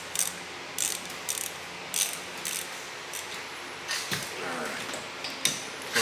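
A ratchet wrench fitted with a spark plug socket clicks in repeated short bursts while working on a race buggy, close up against a faint background hum.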